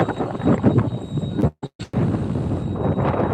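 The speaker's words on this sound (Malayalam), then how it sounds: "നല്ല കാറ്റുണ്ട്" Strong, steady wind at sea in the Arabian Sea buffets the microphone with a broad roar, briefly cutting out for a moment midway before the gusting resumes.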